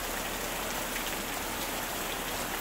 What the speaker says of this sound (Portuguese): O som da chuva na minha janela é como